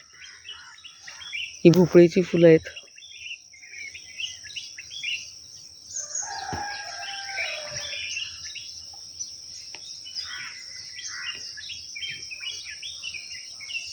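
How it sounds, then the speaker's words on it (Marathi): Birds chirp and call steadily through a village morning during the Ganesh festival, moderately distant and continuous, with a brief spoken remark near the start and a few sharper calls rising midway. "पक्ष्यांचा किलबिलाट आहे कोंबड्यांची बाग आहे बांग आहे"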